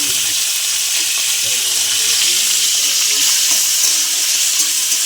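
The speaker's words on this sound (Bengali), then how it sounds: "পেঁয়াজটা একটু ভাজা ভাজা করে নেব।" Onion and green chilli frying in oil in a kadai, a steady loud sizzle filling the whole stretch with faint scraping stirs underneath.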